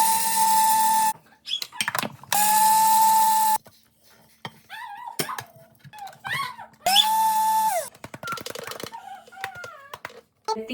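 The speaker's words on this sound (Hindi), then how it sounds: "सौंफ को मैं थोड़ा दरदरा सा पीसूँगी लेकिन इसका पाउडर बना लूँगी, और सेसमी सीड्स को भी हल्का सा दरदरा सा पीसूँगी" An electric grinder coarsely grinds fennel and sesame seeds in three loud whirring bursts, each a few seconds long and starting and stopping abruptly, with someone talking in the gaps between them.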